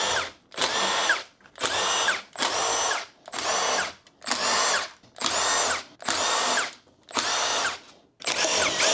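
A power tool buzzes in nine short, evenly spaced bursts, loud and close, while the clutch-side cover of a 2017 Yamaha YZ250F dirt bike is taken off during an engine rebuild; no voices.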